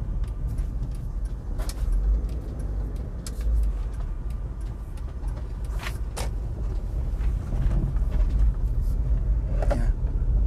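A 1998 Honda CR-V rolls downhill through a residential area in Semarang, heard from inside the cabin as a steady low rumble of road and engine noise with faint rattles and small knocks.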